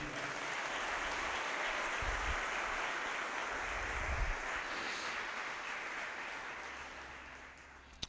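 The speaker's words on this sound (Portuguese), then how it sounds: "Dá um aplauso bem forte a Jesus." A church congregation at a worship service applauds loudly, a thick, sustained wash of many hands clapping that continues steadily and slowly fades toward the end, with a few low thumps beneath.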